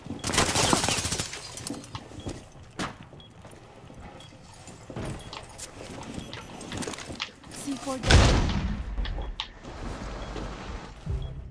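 Gunfire in the tactical shooter Rainbow Six Siege: rapid bursts of automatic fire and sharp single shots crack through a busy in-game mix, with a loud heavy blast near the end and voices chatting over the action.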